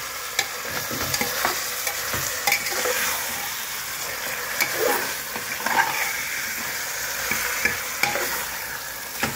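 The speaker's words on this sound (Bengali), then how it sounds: "এখন না, মটনটা একটু ফ্রাই করে নিই, তারপরে এতে দই দেবো।" Mutton frying in a pan gives a continuous close sizzle, broken by frequent scraping stirs and clanks of the spatula against the pan, with no voices.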